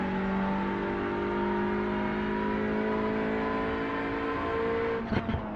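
Touring car racing game engine held high near redline, a sustained buzzing whine with steady harmonic tones that runs nearly unbroken, then breaks into a couple of sharp bursts at the end.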